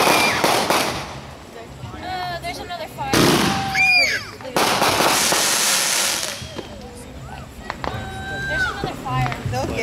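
Consumer fireworks going off outdoors in red, white and blue, with crackling bursts, whistling rising shots and pops coming in waves, while people talk over them.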